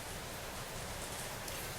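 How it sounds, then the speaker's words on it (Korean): Rain falls as a faint, even hiss of steady broadband patter with no distinct drops or voices. "제가 지금 이 빗소리가 들린다라는 것은"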